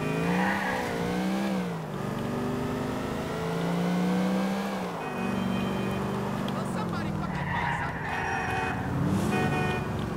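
A car in the video game GTA IV drives and revs, its engine rising and falling in pitch through several gear changes, with someone talking over it.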